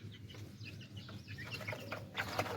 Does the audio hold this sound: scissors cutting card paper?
no